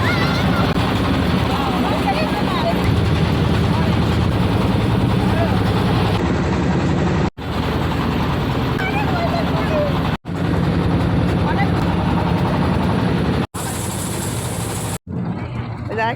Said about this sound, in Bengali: এতে হচ্ছে ট্রলারটা ছেড়ে দিল।